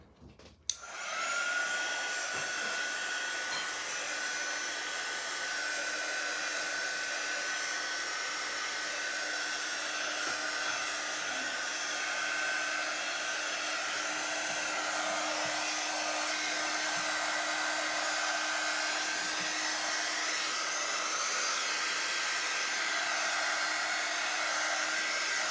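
A hair dryer runs steadily, drying a freshly painted cardinal picture; the blowing whir starts abruptly and holds loud and even for the rest of the stretch, with no talking.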